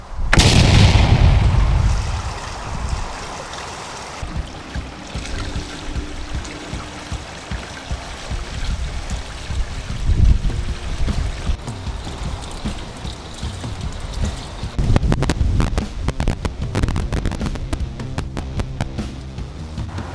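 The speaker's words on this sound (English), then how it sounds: "you're going to watch as I dump my Blackwater tank and show you how to back flush the system properly" RV black water tank dumping and back flushing, opening with a loud gushing rush, then continuous sloshing and splashing flow with bursts of churning water toward the end.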